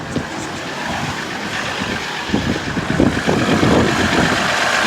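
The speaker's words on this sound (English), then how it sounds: "Let it idle for a while." A 2018 Ram Laramie diesel pickup idles steadily just after a fuel filter change, a continuous close engine rumble that grows slightly rougher and louder partway through, with no talking.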